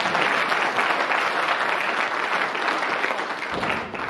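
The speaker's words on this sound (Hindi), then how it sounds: "अपने खुद के लिए तालियां बजा लो यार" A crowd at a school silver jubilee and alumni meet applauds steadily, dense clapping from many hands filling the space, fading slightly near the end.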